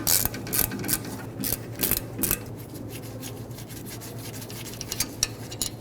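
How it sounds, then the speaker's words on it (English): A brake caliper bolt is worked loose on a 2015-2020 Ford F-150 rear brake, with close, intermittent bursts of scraping and rasping metal and no voices. "Take this bolt out, finish removing the top bolt."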